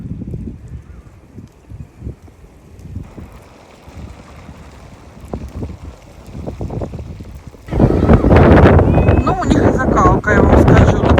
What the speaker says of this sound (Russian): Я вам скажу, такое ветреванище.